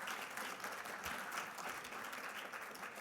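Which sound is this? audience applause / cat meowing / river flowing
audience applause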